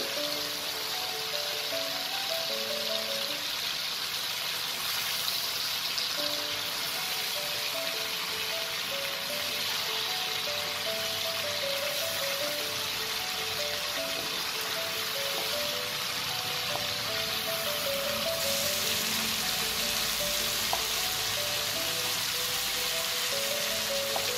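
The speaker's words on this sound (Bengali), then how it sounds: "পনিরটাকে আমাকে হালকা ব্রাউন করে একটু ভেজে নিতে হবে এপিট ওপিট দুদিক থেকে আমি হালকা ব্রাউন করবো" Paneer frying in hot oil in a pan, a steady dense sizzle with small crackles and pops running unbroken throughout, close and fairly loud, with no talking.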